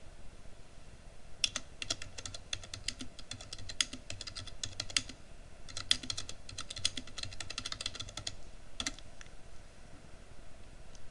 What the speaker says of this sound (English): we'll do 2 questions and type the instructions in